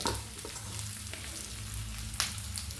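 Grated coconut stirred in a hot pan for muttakkuzhalappam, a close, continuous sizzling crackle with a few sharp scrapes of the spoon against the pan, with no voices.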